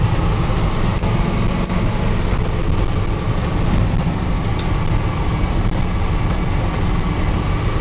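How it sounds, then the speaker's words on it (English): A 1988 Chevy 2-ton dump truck cruises down the road in fifth gear at about 55 mph, with a loud, constant engine drone and road rumble that never lets up. "So we're in fifth gear, going 55, cruising down the road nice"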